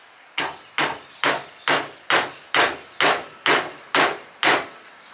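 Ten firm blows from a handmade fabricated hammer land on metal in a slow, regular rhythm, each a loud close strike with a short ringing decay.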